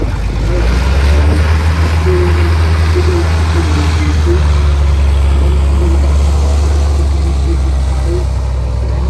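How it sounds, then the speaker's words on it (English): An M5 high-speed tractor, a tracked military vehicle built on tank components, drives around at a military show in Capel, England, its engine a loud, steady low rumble that holds for the whole stretch. "We've also got the M5 high-speed tractor driving around there again."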